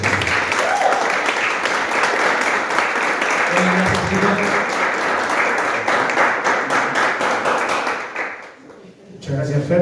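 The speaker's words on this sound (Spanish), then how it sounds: "Demos un aplauso a los nuevos días para ustedes." Sustained crowd applause at a church service, dense and steady for several seconds, with voices mixed in, then fading out near the end.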